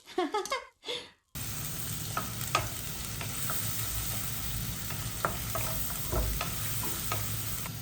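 Vegetables sauté in a kadai while quail pepper fry is cooked, a steady broadband sizzle with intermittent sharp clicks and scrapes of stirring, preceded by a short burst of other sound before the frying noise takes over.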